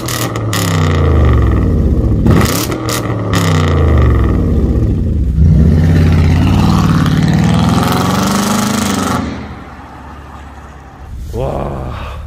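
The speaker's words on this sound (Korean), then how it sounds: "지금 배기음이 가장 궁금하거든요. V8이잖아요 또. 혹시 한 조금 밟아주실 수 있을까요?" A Kia K9 with a 5000cc V8 revs hard, its deep exhaust roar swelling and falling through several throttle blips close by, easing toward idle near the end while people talk over it.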